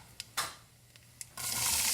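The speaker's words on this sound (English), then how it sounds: "add the black mustard seeds. When they pop, add the cumin seeds" Black mustard seeds and cumin seeds crackle in hot tadka oil for dal fry, with a few sharp pops early on, then a sudden steady loud sizzle near the end, no voices.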